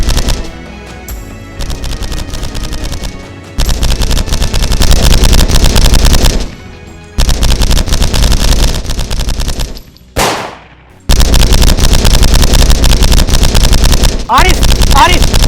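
Sustained bursts of automatic gunfire fill a Hindi army film scene, loud and dense, cutting out abruptly a few times before resuming at full intensity.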